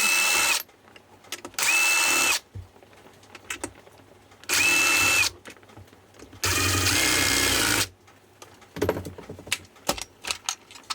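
Power drill backing out four screws from the end of a ROODOG e-bike battery case, four separate whirring bursts of a second or two each with quiet pauses between, then small clicks and handling noises at the end.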